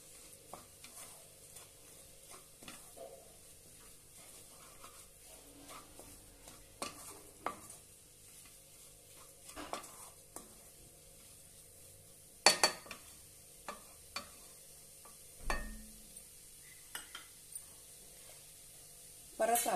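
Chopped spring onion greens are stir-fried with two spoons of gram flour in a pan, giving a quiet, low sizzle broken by intermittent scrapes and taps of a spatula.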